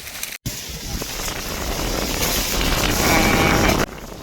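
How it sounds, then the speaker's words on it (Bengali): Strong wind gusts ahead of a storm in rural Bangladesh, a loud, continuous broadband rush buffeting the microphone and building steadily before easing at the end. "আবারও বেশ জোরে সোরে বাতাস ছেড়েছে।"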